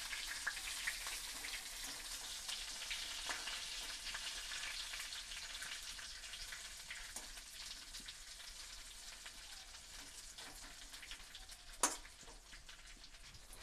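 Whole eggplants frying in a pan as they are turned over, a soft continuous sizzle with faint stirring and one sharp clink near the end, no talking.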